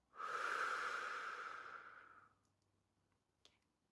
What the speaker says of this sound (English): Take a deep breath and exhale